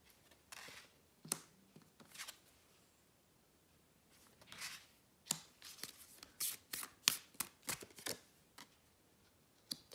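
Tarot cards being shuffled and handled, a series of crisp riffling and snapping bursts, sparse at first and then quicker, close up with no talking.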